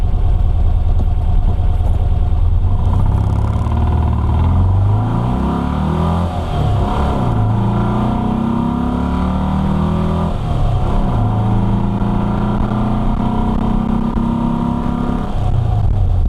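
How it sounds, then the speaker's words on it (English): A 1964 VW Beetle engine with Empi dual carbs runs loud and close, idling with a few revs that rise and fall. "both carbs, they sound good, sound balanced. No pips or backfiring carb notes, exhaust notes."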